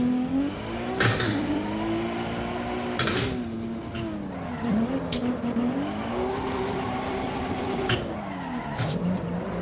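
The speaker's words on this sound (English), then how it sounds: "that 2JZ sounds incredible, from the interior at least" A race car engine with a 2JZ straight-six and turbo howls and shifts through the revs in a video game while tires squeal in bursts, the pitch sweeping up and down continuously, loud and close without speech.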